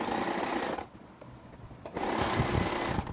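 A sewing machine stitches cord piping onto the edge of a dupatta, running in two loud steady bursts with a short pause between them, no talking.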